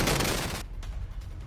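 Fireworks at the Thrissur Pooram festival in Kerala, a dense crackling barrage of rapid bangs that cuts off abruptly, followed by scattered fainter pops and a low rumble.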